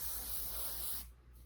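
Wig spray from an aerosol can hisses onto a wig in one close, steady burst lasting about a second, then cuts off abruptly into a quiet room.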